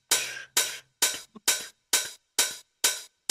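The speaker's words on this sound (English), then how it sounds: "just a classic hi-hat" A crisp hi-hat hit repeats eight times at an even, quick pace, each one a short bright sizzle that cuts off cleanly, with no other sound.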